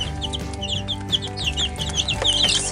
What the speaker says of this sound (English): when chickens are happy, they have a cooing sound